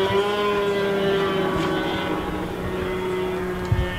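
A Formula 500 racing boat engine whines at high pitch during a women's heat, a loud sustained tonal drone with harmonics that holds steady then wavers slightly as the boat runs.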